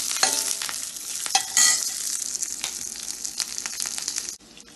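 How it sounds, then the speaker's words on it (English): Green chilli and urad dal fry in hot oil for poha: a bright, steady sizzle close up, broken by stirring scrapes and a burst of louder spitting, ending abruptly, with no voices. "I am adding green chilli."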